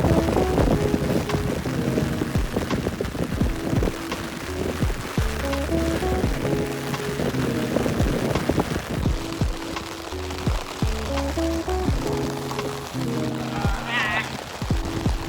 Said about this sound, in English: The downpour lasted for only like 5 minutes.